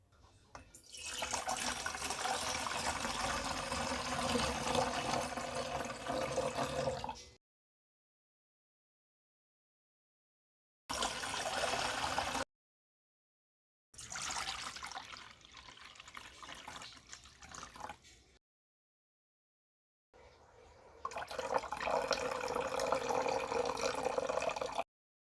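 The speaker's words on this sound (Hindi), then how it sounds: "अब इस पानी को फेंक कर और एक बार धो लेते हैं।" Soaked wheat is drained and rinsed under running tap water in a kitchen, with long stretches of splashing, gushing flow broken by several silent gaps, loud and close.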